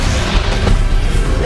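Depulso force spell cast against Ranrok in the Hogwarts Legacy final battle, a brief loud thump and crash of magical force inside a constant low, roaring combat background.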